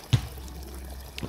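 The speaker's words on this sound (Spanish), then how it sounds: "Y por ahí arriba subo una manguerita y pues ahí está la cascada." Water from a garden hose runs down a small backyard waterfall, a quiet steady trickle with a couple of brief louder splashes near the start and end.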